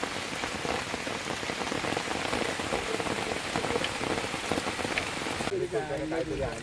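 Steady, dense rainfall patters on a surface nearby at Vandri Lake in Palghar, with a voice briefly audible under it near the end.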